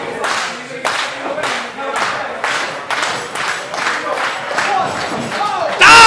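A wrestling crowd claps in a steady rhythmic beat, around ten loud, even claps with crowd voices mixed in, swelling louder at the end.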